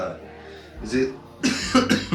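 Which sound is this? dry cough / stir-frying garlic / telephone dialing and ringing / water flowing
dry cough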